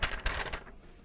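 Paper notes are shuffled and handled close by, a few quick crisp rustles and flicks in a short burst that fades into quiet.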